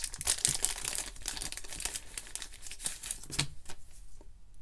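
A fresh pack of thick card sleeves is opened close up, with continuous plastic crinkling and rustling that fades toward the end, and no talk.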